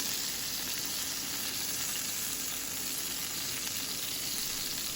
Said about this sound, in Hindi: पार्टी साइज़ कबाब में किस तरीके से फ्राई कर रही हूँ